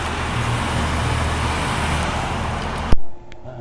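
A steady roar of freeway traffic carries near an RV boondocking spot, a dense continuous wash of passing vehicles that ends abruptly in a short thump and quiet.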